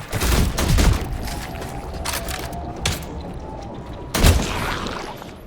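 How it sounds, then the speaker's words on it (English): Grenades detonating in the survival game The Last Caretaker: a heavy booming blast at the start, a rumbling tail, a smaller thump midway and a second loud explosion near the end, with mechanical clatter between. "I'm using them grenades"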